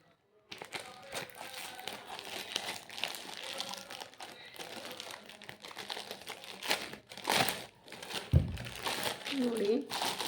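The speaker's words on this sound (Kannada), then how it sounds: "ಸೊ ನೋಡಿ, ಬಂದಿದೆ ಆರ್ಡರು, ಓಪನ್ ಮಾಡ್ತಾ ಇದ್ದೀನಿ." A Meesho parcel being unboxed, its plastic packaging crinkling and rustling in irregular bursts close to the mic, with a voice talking over much of it.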